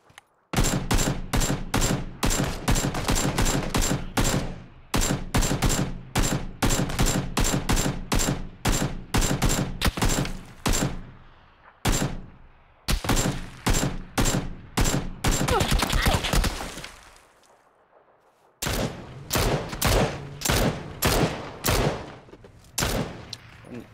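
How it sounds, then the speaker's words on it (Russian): Gunfire in a Kalashnikov video game team battle crackles in rapid, loud automatic bursts, one after another, with a short lull partway through before the shooting resumes. "Стреляют по мне."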